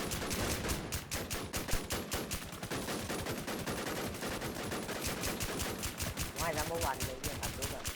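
Rapid, relentless bursts from a .50 calibre gun in a shooting video game, close and loud, firing in dense continuous volleys for the whole stretch with barely a pause.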